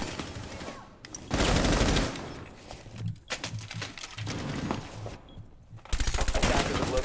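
Gunfire in a tactical shooter video game during a competitive match, with loud sustained bursts of rapid automatic shots and short pauses between volleys, close and dominant, with a commentator's voice faintly beneath in places.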